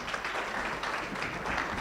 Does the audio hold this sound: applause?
yes